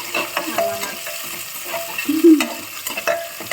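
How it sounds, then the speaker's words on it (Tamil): Ingredients for a mushroom biryani made with seeraga samba rice sauté in a hot pan, with a steady sizzle under irregular scraping strokes of a stirring spoon close by. "இதை கொஞ்சம் வதக்கணும்"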